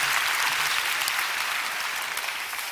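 Audience at a Daniel prayer meeting applauds steadily, a dense wash of many hands clapping close and loud for the whole stretch, fading slightly toward the end with no voices over it.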